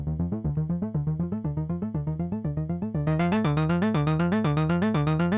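An Angelspit Kaos synthesizer sequencer steps through rapid, evenly pulsed notes in a looping pattern, growing brighter and louder partway through; no voices.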